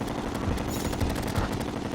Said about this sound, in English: using some chlorophyte bullets. This is probably my best weapon, even though it's really loud.